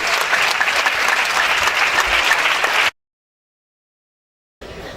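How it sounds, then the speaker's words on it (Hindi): Congregation at a revival meeting in Harbans Pura, Lahore, Pakistan bursting into loud, dense sustained applause for nearly three seconds, then cutting to silence before the clapping briefly resumes. "अपने कदमों पर खड़े हो जाएं और अपने खुदावंद के लिए, उसके कलाम के लिए जोरदार तालियां बजाएंगे"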